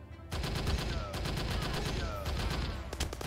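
Sustained automatic gunfire in the PSVR shooter Eden Tomorrow rattles on in a dense, rapid stream with brief pauses, loud and close, with metallic pings layered over it.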